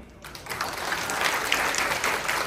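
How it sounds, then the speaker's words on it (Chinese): Audience applause at a Rotary Club anniversary ceremony welcoming the district governor, a dense wash of clapping that builds after a quiet start and holds steady and full. "让我们以最热烈的掌声欢迎我们三四六一地区总监"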